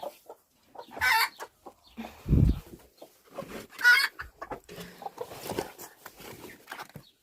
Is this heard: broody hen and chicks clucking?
yes